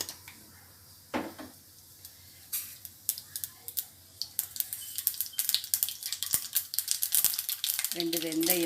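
Mustard seeds, fenugreek and cumin crackle and sizzle in hot oil for tempering sambar, sputtering pops building in intensity close by, with brief voice sounds near the end.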